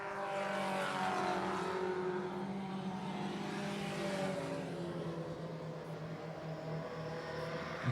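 Race cars at speed on a track, a broad engine roar that swells early then drifts steadily away, heard from a distance with no talk.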